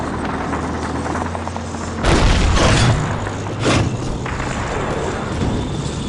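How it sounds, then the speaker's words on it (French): TNT blasts against tanks in the Call of Duty 2 video game, two loud booming explosions with rumbling tails rising over a constant mechanical battle drone, no talking. "Caporal Taylor! Approchez-vous de ces chars par le flanc! Utilisez votre TNT"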